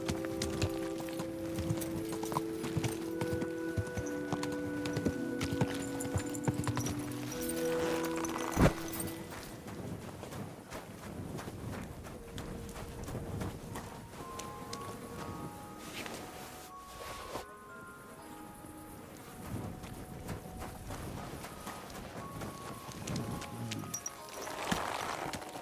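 Horse hooves clip-clop in Kingdom Come: Deliverance II, a steady rhythmic plodding over a dense game soundscape with music and ambient layers, moderately loud and continuous with no speech.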